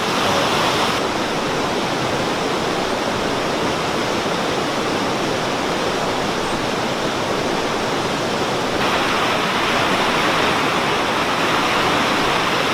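Continuous broadband rush of river water flowing and splashing around a bend in the Smoky Mountains, steady and fairly loud throughout with no voices.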